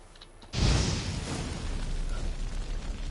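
A burst of the Igni fire sign cast in The Witcher 3 erupts suddenly after a quiet half-second, a loud whooshing roar of flame that stays dense and sustained to the end, with no talking over it.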